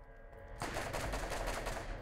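A gun in the Borderlands video game opens up after a brief quiet moment, loosing a rapid, rattling burst of shots that stays loud and continuous to the end.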